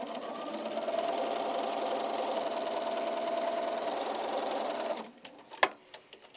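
A sewing machine stitches a quilt block with a steady, fast mechanical whir for about five seconds, then stops, followed by a few light clicks and taps.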